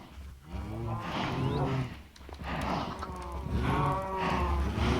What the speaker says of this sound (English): Come to me, cows, my bovine friends.